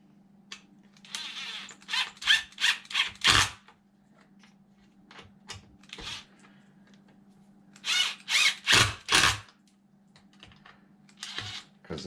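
A power tool tightens bolts on an Arrma Limitless RC car battery tray, whirring in two clustered runs of short loud bursts with quiet gaps and a steady low hum underneath.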